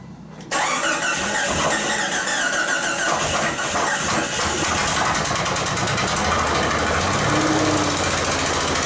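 A 1999 Jeep Cherokee engine, newly swapped, cranks and roars to life after a brief quiet start, then runs loud and rough with a heavy, rattling idle throughout.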